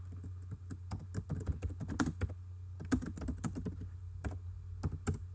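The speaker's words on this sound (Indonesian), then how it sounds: "Sebentar, saya ketik dulu." Keys clatter in quick bursts of close typing on a computer keyboard, with short pauses between runs of taps over a low steady hum, and no voices.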